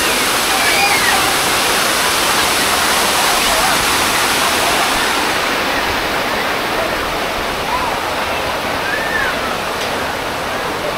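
A powerful artificial waterfall at a water park pours in a loud, steady roar of crashing water, continuous throughout with faint distant voices beneath the rush.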